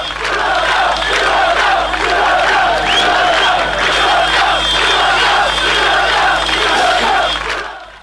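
An angry crowd in Croatia burning Yugoslav flags, a dense continuous roar of many shouting voices sustained at high volume before fading at the end.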